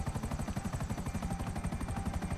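A helicopter in the video game GTA V gives a rapid, steady rotor chop that pulses evenly and loudly throughout.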